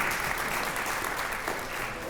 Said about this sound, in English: Let's give a round of applause for Youth Apprenticeship Day.